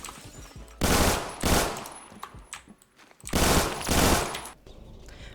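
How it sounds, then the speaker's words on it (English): A G18C automatic pistol in Roblox Phantom Forces empties a full magazine in loud, close bursts of rapid fire, separated by short quiet gaps. "I'll just, fire this whole entire magazine off."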